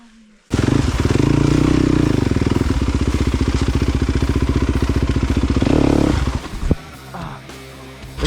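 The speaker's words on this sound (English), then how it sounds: "This thing doesn't want to start." Off-road vehicle engine stuck in a deep mud hole, struggling to start: a loud, close, rapid chugging crank that runs for several seconds, swells, then stumbles and cuts out into scattered knocks.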